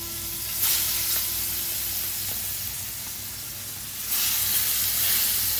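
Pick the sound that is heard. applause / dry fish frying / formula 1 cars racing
dry fish frying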